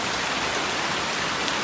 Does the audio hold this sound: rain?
yes